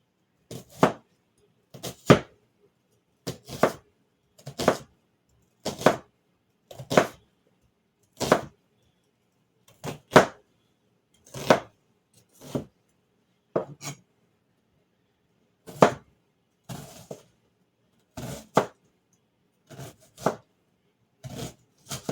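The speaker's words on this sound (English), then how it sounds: "I'm going to cut the onions up just a little bit smaller for the inside." A knife chops onion on a cutting board for purple cabbage rolls, with sharp distinct knocks in evenly spaced pairs and small clusters, close and clear against a quiet kitchen.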